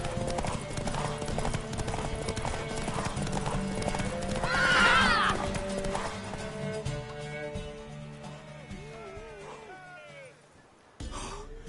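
Rapid hoofbeats of a galloping horse clatter steadily in Witcher 3, with a horse whinnying midway, all over a busy layered game soundtrack that fades near the end.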